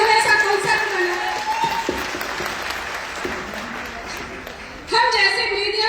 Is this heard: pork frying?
no